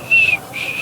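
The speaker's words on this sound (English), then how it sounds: "That sounds like a whistle." A person whistles one short, thin high note that lasts only a fraction of a second, close and clear with faint room noise around it.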